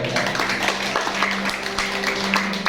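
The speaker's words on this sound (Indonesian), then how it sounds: "Yang setuju tepuk tangan." Congregation clapping hands during a Christmas 2021 church service, a fairly brief burst of mixed clapping with a faint sustained tone underneath.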